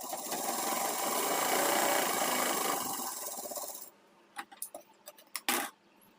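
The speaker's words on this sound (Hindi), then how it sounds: "तो इसमें हम डबल सिलाई लगाएंगे इस तरह से।" A sewing machine runs steadily for about four seconds stitching a double seam on an Afghani salwar, loud and close, then stops, followed by a few light clicks and handling sounds.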